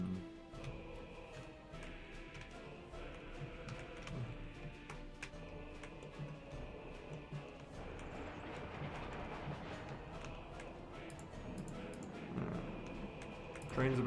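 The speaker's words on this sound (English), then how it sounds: "Trains are back to running on time." Trains run in the Workers and Resources city-building game, with a soft rumble and faint ticking rail clatter beneath steady talking, mixed with other game ambience.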